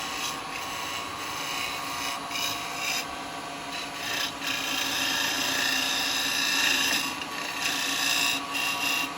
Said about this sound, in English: We'll use the detail chisel, go in and clean that up.